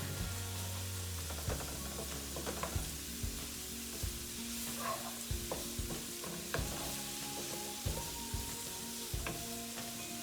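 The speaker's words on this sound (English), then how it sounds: "Gotta keep it stirring it around." Ground turkey sizzling steadily in a pan as it is stirred, a constant loud frying hiss with frequent scraping and clinking from the utensil, close and uninterrupted, while Vietnamese caramelized turkey cooks.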